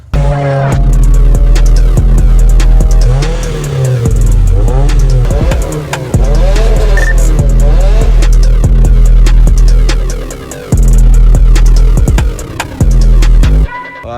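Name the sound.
modded 4th gen Mitsubishi Eclipse driving, POV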